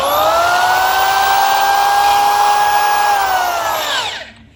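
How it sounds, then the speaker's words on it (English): A power drill bores out a hole that will later be tapped for threads, a loud, steady motor whine running unbroken for about four seconds before winding down and stopping. "Drilled it out."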